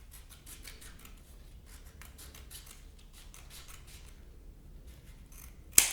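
Scissors cutting in a straight line, a faint close series of rhythmic snips with soft rustling, ending in a sharp louder snip.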